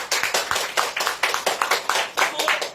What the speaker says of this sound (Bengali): আমি চাইবো একটা জোরে হাততালি হোক ডক্টর লিন চিওজিনের জন্য